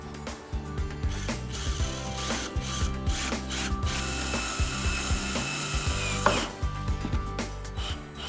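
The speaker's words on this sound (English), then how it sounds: "you're going to locate the screw that's marked E, and you're going to put it through the side of panel number 2" A screw is driven by hand into the side of a wooden ladder cube organizer panel, producing repeated ratcheting clicks and creaking, rubbing wood sounds in a steady rhythm, close up and alone.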